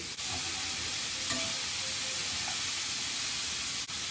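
Cabbage and soaked chana dal stirred in a hot pan, a steady close frying sizzle and hiss with soft scraping of the spoon throughout, no voices.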